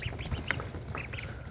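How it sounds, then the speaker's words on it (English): White runner ducks quack in a rapid, nasal series of short calls, close by and fairly clear over a low farmyard background. "So let's say goodnight to these ducks."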